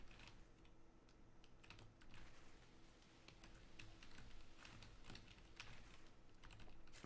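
Computer keyboard typing during a session of the Eco survival game: rapid, continuous clicking keystrokes at a fairly low, steady level, with no one talking.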